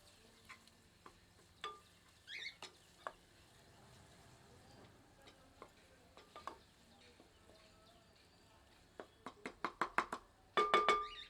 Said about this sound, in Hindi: इसे प्याज के साथ मिलाकर 2 मिनट भून लेते हैं।